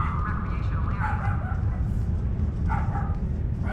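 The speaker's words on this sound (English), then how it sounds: "My dog likes to bark." A dog barks and yips in a few short bursts behind steady speech, the barking mid-distance and partly masked by the talking.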